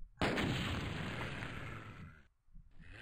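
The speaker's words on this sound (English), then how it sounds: "you can shoot those barrels as well, actually. Let's do that. Those barrels explode" A barrel blown up by gunfire in Doom II on Nintendo Switch, one sudden loud blast with a rumbling, crackling tail that fades over about two seconds before a softer thud follows.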